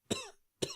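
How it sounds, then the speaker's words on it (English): Two short, rough coughs spaced about half a second apart, a smoker's cough, close and fairly quiet with no talking. "Smoker's cough."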